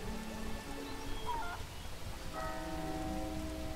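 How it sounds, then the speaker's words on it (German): Steady rain falls in Bree in the LEGO Lord of the Rings video game, a soft, constant patter layered with faint game chimes and tones. "Dass es in Bre auch immer regnet, ne?"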